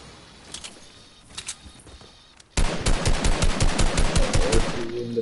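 Video game gunfire: a few scattered sharp shots, then a sudden sustained burst of rapid automatic fire in a steady rhythm for several seconds, loud and up close.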